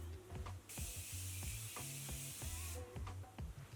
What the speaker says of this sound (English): And then you're gonna spray your face again with setting spray.